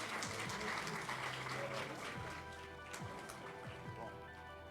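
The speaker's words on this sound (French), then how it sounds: "Merci de les applaudir encore une fois." An audience at the opening ceremony of an entrepreneurship forum applauds, a dense continuous wash of clapping that eases slightly toward the end, with faint voices mixed in.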